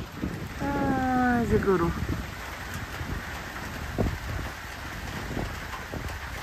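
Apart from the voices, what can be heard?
rain falling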